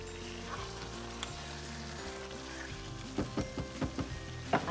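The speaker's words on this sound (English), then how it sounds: "I'm going to add some salt to taste. You stir to combine." Kale with salt being stirred in a sizzling pan, a soft steady sizzle underneath, then a run of close scraping, clicking stirs near the end.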